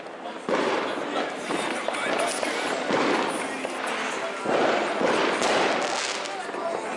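Dense, continuous crackling and banging of New Year's Eve fireworks with sharp bursts throughout, loud and close, with voices mixed in.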